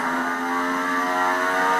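A KTM 450 EXC dirt bike in The Crew Wild Run racing game screams at full throttle with nitro, its high steady engine whine holding loud and constant with no voice.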